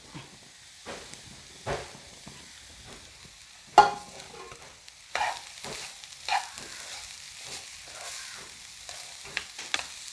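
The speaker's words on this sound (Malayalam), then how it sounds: "അരപ്പൊന്ന് ചൂടായപ്പോഴേ നമ്മുടെ വാഴച്ചുണ്ടിട്ട് കൊടുത്തു" Chopped banana flower cooking in heated spice paste in a pan, with a soft steady sizzle and occasional stirring scrapes and knocks, no talk.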